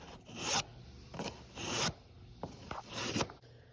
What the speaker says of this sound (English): we're going to take a file and very carefully, without getting into anything else, just take that off there